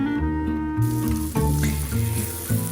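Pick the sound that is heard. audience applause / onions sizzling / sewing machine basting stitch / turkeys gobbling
onions sizzling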